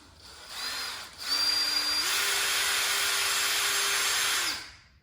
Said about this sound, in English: This we want to drill.